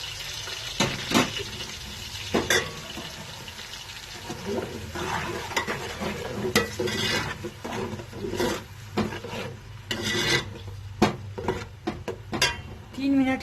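Green onions fry in hot oil with an uneven sizzle, broken by sharp clatters and scrapes of stirring that come and go, fairly close and moderately quiet.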